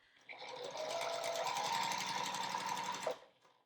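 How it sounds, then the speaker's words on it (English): A sewing machine runs in one steady, close burst of rapid stitching, joining scrap quilt block pieces, then stops. "I'm going to sew the next two together."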